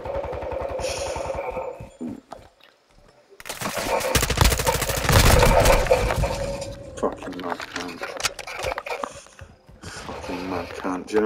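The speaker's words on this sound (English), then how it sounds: "Fucking mortar strike." Loud, dense blast of explosions from a mortar strike in Call of Duty: Modern Warfare 2, erupting after a brief lull and rumbling for a few seconds before tapering into scattered game noise, with a voice talking at times.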